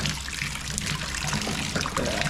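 Fluid draining from a TVR Cerbera engine during an engine-out job, a steady close trickle and splash of liquid falling into a container, running continuously.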